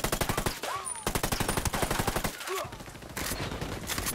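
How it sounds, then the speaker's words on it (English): Rapid automatic gunfire from the video game Ghost Recon Wildlands crackles in dense, rhythmic bursts with short pauses between volleys, staying loud and close throughout, with brief whistling effects mixed in. "Opening fire on these fuckers."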